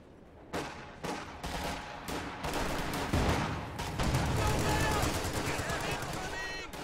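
Light machine guns and explosives pound a blob of troops in a multiplayer strategy game match, with indirect fire landing; dense, continuous automatic fire and blasts fill the scene while a commentator talks over it.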